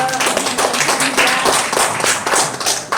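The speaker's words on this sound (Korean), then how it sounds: "박수를 한 번 맞이해 주세요." An audience at a Korean national founding day celebration and award ceremony claps in a dense, lively burst of applause, steady for a few seconds.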